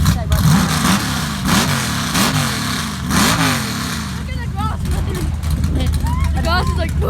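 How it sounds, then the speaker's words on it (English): Old cars at the 2023 Mansfield car show rev their engines in repeated rising and falling bursts, fairly close and loud, while people talk over the rumble. "Sexy sounds from old cars."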